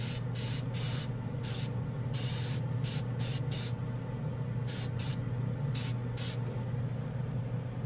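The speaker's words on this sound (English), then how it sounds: "Just trying to see how well it atomizes by really layering it up" Budget airbrush spraying paint in short repeated bursts, a close, sharp hiss starting and stopping about a dozen times over a steady low compressor hum, with no voices.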